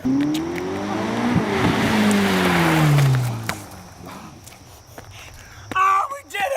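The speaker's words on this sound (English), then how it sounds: "I'm about to jump this car right now" Video game car driving and launching into a jump, engine tones sweeping up and down with tire noise, loud at first then fading, a voice talking over it and a brief burst of sound near the end.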